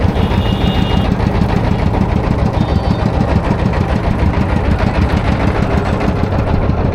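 A motor boat engine runs loud and close on a large wetland lake while the boat turns, a steady rapid chugging drone with buzzing vibration that never lets up.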